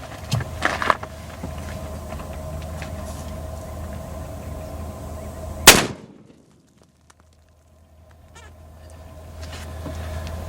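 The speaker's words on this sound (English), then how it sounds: "we're gonna shoot it with a 308 for shits and giggles" .308 rifle fired at a cantaloupe outdoors: after a stretch of background noise, a single sharp, loud crack that cuts off into near silence.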